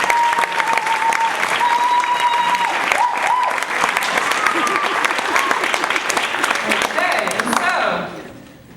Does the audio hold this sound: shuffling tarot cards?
no